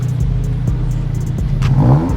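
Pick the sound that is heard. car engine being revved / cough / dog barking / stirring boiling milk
car engine being revved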